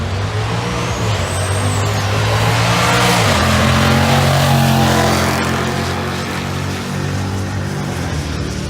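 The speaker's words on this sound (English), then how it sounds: "You heard his turbo build and then it just kind of dropped off" A truck with a 6.0 V8 and turbo accelerating at an LS Fest drag event, loud engine roar climbing, a turbo whistle building then falling away, pitch dropping at a shift, close and continuous.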